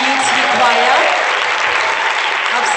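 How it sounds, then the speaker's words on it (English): Dense, loud audience applause for the VUT choir at an Africa Day 2017 event, a continuous wash of many hands clapping with no break. "Give them a round of applause."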